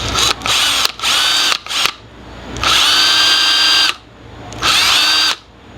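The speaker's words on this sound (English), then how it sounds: "I'm just applying a little pressure down while I'm running the drill." A power drill bores into a plastic slimline clipper part, running in short bursts then two longer whining runs separated by brief pauses, close and loud, with no voices.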